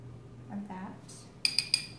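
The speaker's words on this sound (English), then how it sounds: "I'm going to take my spoon and just kind of drop the grenadine in." A metal spoon clinks three times against a martini glass while grenadine is layered into the drink, bright close taps following a short soft rustle.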